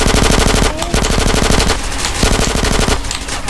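Loud, rapid automatic gunfire in GTA San Andreas, sustained bursts of rattling shots with brief gaps between them, close and dominant.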